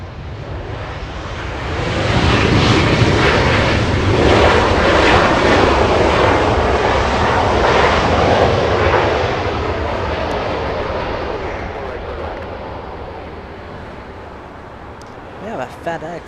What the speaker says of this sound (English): We have a FedEx on taxiway Papa